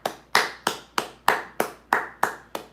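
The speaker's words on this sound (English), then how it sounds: "Milcom, round of applause." Eight sharp, evenly spaced hand claps ring out close and crisp, a short deliberate round of applause from a single person with no talking.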